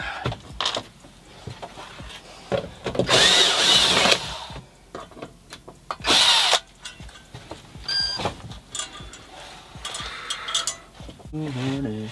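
A power drill whirs in two short bursts a few seconds apart, nearby, amid clattering and handling noises of someone working.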